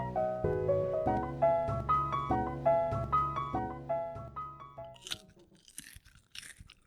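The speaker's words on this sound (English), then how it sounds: "can you hear that crunching?" Popcorn being eaten, with several close, dry crunching bites in quick bursts, heard right after a short bright musical jingle fades out.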